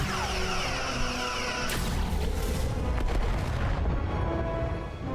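Starship weapons firing during a space battle in the Star Trek: Resurgence video game, a dense, loud barrage of booming blasts and rumbling impacts sustained throughout, without speech.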